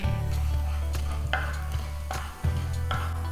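Cumin seeds roasting in a pan for roti samosa filling: sharp scrapes and taps of stirring over a steady low hum and a faint sizzle, close and with no talking.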